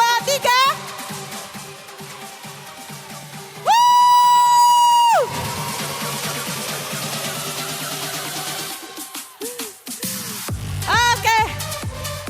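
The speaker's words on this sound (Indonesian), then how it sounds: "Teriak sekencang mungkin. Tepuk tangan sambil bilang happy wedding." Wedding guests cheering and shouting together on cue, with a long bright group whoop, then scattered excited voices, clapping and chatter continuing nearby before another loud burst of shouting near the end.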